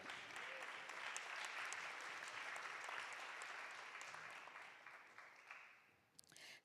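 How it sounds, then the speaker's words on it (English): Audience applause at a candidate forum, a steady wash of many hands clapping that gradually thins and fades toward the end, with a few louder claps just before it stops. "Keep the clapping coming, Joylette."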